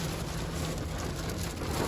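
Steady rain drums on a truck during a storm while someone sits inside, a dense, even hiss and patter with low rumble underneath and no voices.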